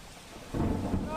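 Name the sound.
heavy rain in Vadodara city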